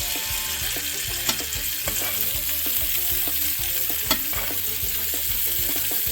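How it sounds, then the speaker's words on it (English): Melted butter with thyme sizzles steadily in a hot pan while blackened salmon is basted, giving a dense, continuous crackle and hiss with faint spoon scrapes and clinks. No one speaks. "Let all this stuff melt. Grab ourselves a little basting spoon. All right, we're going to baste."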